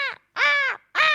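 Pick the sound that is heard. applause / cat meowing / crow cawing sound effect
crow cawing sound effect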